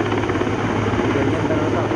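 A navy helicopter hovers close overhead during a commando extraction at a Navy Day display in Visakhapatnam, its rotor thumping in a loud, steady drone with no break.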